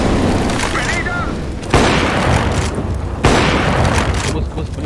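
Grenades in CS:GO go off as two sharp booming bursts over a dense, noisy game background, with a voice speaking in between.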